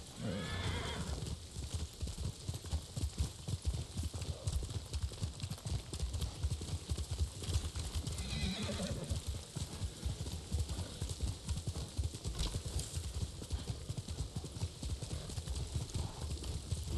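Horse hooves clip-clop steadily in the video game Ghost of Tsushima, a continuous rhythmic trot under dense game ambience with a couple of faint whinnies.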